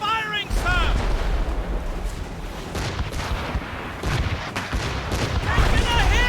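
Broadside cannons on ships in Assassin's Creed Rogue boom one after another, a loud, continuous rumbling barrage with shouted voices heard over the gunfire.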